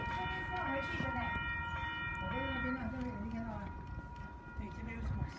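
A passenger train led by locomotive 8144 rolls past at Bellambi with a steady rumble and continuous rail noise throughout, while people chat nearby and a voice rises over it.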